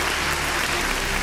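A studio audience claps steadily for a b-boy dancer contestant on a television talent show, a short, dense burst of applause with no speech over it.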